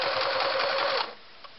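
A Singer Model 353 Genie sewing machine runs a wide zigzag stitch at six stitches per inch, a close, rapid mechanical whir for about a second before stopping abruptly.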